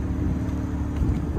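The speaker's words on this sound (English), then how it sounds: "Custom exhaust sounds really, really nice." A Mazda RX-8 rotary with a custom exhaust idling, giving a steady, deep, loud rumble that stays constant and close for a second and a half, with no one talking.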